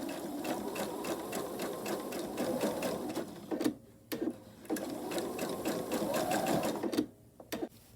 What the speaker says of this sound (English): I'll take it to the machine and sew a 1/4 inch seam allowance right along here